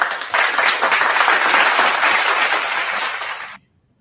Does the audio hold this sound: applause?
yes